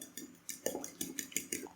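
Eggs are beaten in a bowl for a potato lollipop coating, giving a quick run of light, rhythmic clinks and scrapes, about eight strokes in under two seconds, heard alone and fairly close.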